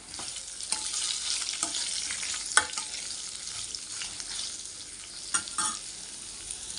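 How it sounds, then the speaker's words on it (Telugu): Sliced onions sizzle steadily in a pan with chillies and spices, a soft, continuous frying hiss broken by occasional stirring scrapes, with no talking. "రెండు ఉల్లిపాయలు ఇలా వాలకలుగా కోసుకుని వేయించుకోవాలన్నమాట బాగా మగ్గనిద్దాం"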